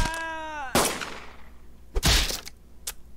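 Bomb exploding in the video game Henry Stickmin Collection, a sharp cartoonish blast following a falling tone, then several more loud impact hits close up.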